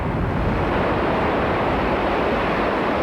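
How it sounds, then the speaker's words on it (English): Ocean waves rolling onto a South Carolina beach, a broad, steady wash of surf mixed with wind rush, loud and close with no voices. "you can just hear the ocean waves rolling in"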